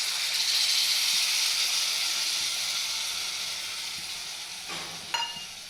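Tamarind juice poured into a hot pan of spiced goat-head curry sets off a loud, steady sizzle and hiss that slowly eases as it settles, with a brief clink near the end.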